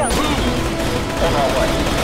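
Sustained automatic gunfire from a first-person shooter played on a gaming smartphone, loud rattling bursts with no pause, layered over a busy, noisy battle mix.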